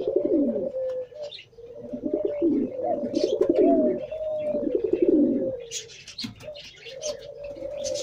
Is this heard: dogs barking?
no